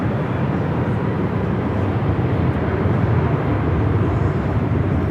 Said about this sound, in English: Southwest Airlines Flight 3754 coming in from Denver on a 737-800